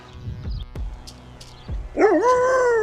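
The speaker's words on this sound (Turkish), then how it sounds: "İşte bunlar da Kramer'in köpekleri." Dogs at the Konyaspor Kayacık training facility give a few sharp, close barks, followed by a rising, whining yelp at the end.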